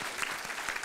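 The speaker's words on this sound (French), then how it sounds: "On peut applaudir tout le monde." Brief, fairly quiet applause from an audience at a morning event in Brussels, a dense patter of clapping lasting under a second with no voices over it.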